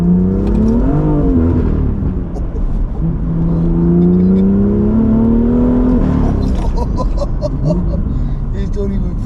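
A tuned BMW M2 Stage 2+ engine revs hard under full acceleration, pitch climbing, dropping at a gear change and rising again as the wheels spin into third gear. It is loud and close, with voices talking over it.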